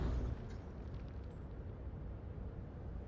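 A grenade goes off in the Pavlov VR shooter game during a competitive tournament match: a loud low boom at the start that settles into a sustained deep rumble for a few seconds.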